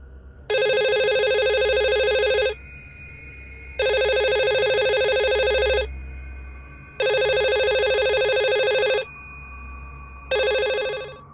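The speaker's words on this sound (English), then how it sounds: "a phone that's not connected to electricity begins to ring" A telephone disconnected from electricity rings electronically in four evenly spaced, loud bursts of about two seconds each, separated by short pauses of quiet background hum.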